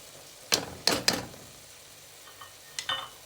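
A spoon stirs lentils and potatoes in a pot of curry soup, making a few sharp scrapes and knocks in two short clusters against a quiet, faintly sizzling background.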